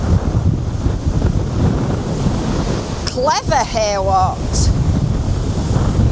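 Sea waves break against a sea wall with a groyne on a very windy day, a constant roar of surf and wind buffeting the microphone, while someone speaks briefly near the middle.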